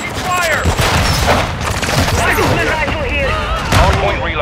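Rapid gunfire and explosions in the Call of Duty: Modern Warfare II video game, a dense, continuous clatter of shots and booms mixed with in-game voice callouts throughout.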